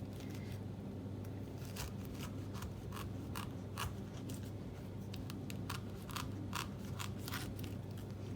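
Crisp, repeated slicing and crunching strokes of a long kitchen knife cutting into a fresh pineapple, sounding close and distinct, over a steady low background hum, with no talking.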